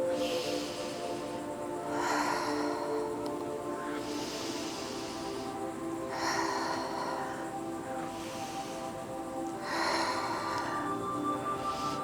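Slow, audible breaths are paired with flowing yoga side-twist movements for lower back pain, with soft inhale and exhale swells repeating roughly every four seconds over a steady tonal background.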